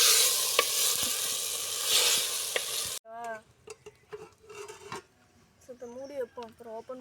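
Chicken fries and is stirred in a pot at an outdoor village garden cooking spot: a loud, steady sizzle with scraping stir knocks for about three seconds, then people talk over quieter frying.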